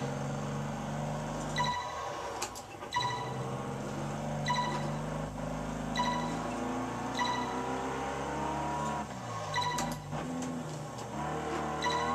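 A car drives in the racing video game Test Drive Unlimited 2 on a classic driving school course, a steady engine drone with shifting revs and brief tire squeals, moderately loud with no voices.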